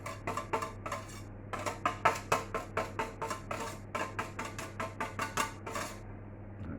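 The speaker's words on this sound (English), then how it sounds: "so just give it a quick chopping through" A knife chops citrus zest on a cutting board in quick, steady knocks, about three per second with brief pauses, close and crisp over a low kitchen hum, with no talk.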